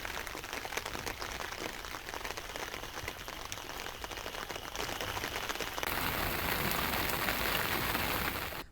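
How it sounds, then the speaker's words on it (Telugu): Heavy rain from a depression pours steadily in Prakasam district, Andhra Pradesh, a dense, continuous hiss of drops on surfaces that grows slightly louder partway through. "ప్రకాశం జిల్లాను భారీ వర్షాలు ముంచెత్తుతున్నాయి"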